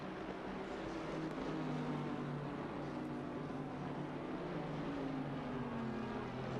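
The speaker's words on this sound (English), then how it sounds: "You can hear the Bentley's motor and see it on the telemetry." Bentley race car engine droning steadily on a track, a distant, fairly faint motor hum whose pitch rises and falls slightly as it runs, with no break in the sound.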